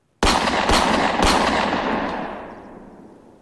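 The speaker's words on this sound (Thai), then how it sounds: "เสียงปืนสั้นขนาด .38 รีวอลเวอร์ของสมิธแอนด์เวสสัน แผ่สนั่นขึ้น3นัดติดกัน" Three rapid, loud shots from a Smith & Wesson .38 revolver crack out close together, the last one trailing into a long, fading reverberant tail, with no talking.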